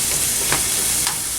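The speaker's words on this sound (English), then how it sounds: "Alright, onions go in. And we're just gonna cook the onions until we get a little bit of color." Onions frying in a pan for shrimp pad thai, a steady close sizzle with soft stirring scrapes, heard alone.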